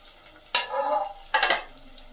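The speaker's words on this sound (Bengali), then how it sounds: "এবার আমি যেগুলো বানানো হয়েছে কড়াই ছেড়ে দেব, লাল লাল করে ভেজে নেব" Chana dal raspuli frying in oil in a kadai, two bursts of sizzling as pieces go in, close and fairly quiet, with the sizzle fading in between and no talking.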